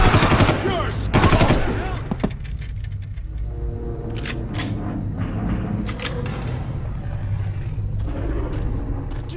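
Gunfire in Far Cry opens with a couple of loud rapid shot bursts, then trails into scattered, fainter clicks and rattles over a steady low game rumble.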